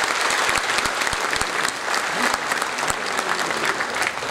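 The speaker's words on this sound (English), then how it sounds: "Give them a big round of applause." Loud, dense applause from a large audience at an Indian Navy band performance, sustained clapping with a few sharp individual claps standing out near the front.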